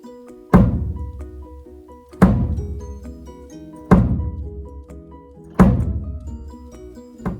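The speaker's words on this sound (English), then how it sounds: "This is a bass drum." Four deep, booming bass drum thumps, struck with a pedal beater, land about every second and a half, each decaying slowly into resonant ringing before the next strike.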